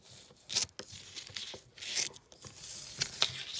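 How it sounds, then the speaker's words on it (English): Scissors cut a square out of a sheet of paper, giving a close run of crisp, papery snips and rustling crinkles in uneven bursts, with no talking. "get your scissors. So what you want to do is cut out a fine square"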